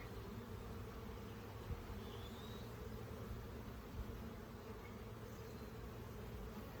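A steady, close drone of many honey bees buzzing together around a hive frame in an apiary, unbroken and even throughout, with no voices.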